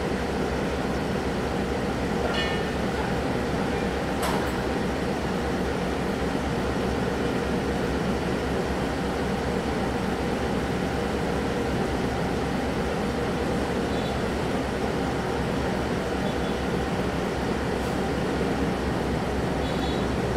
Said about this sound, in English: I'm glad to have caught this train.